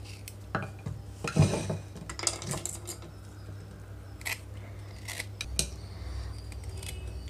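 Raw mangoes being peeled for a mango chutney, with soft scraping strokes and occasional knocks of utensils in a quiet kitchen.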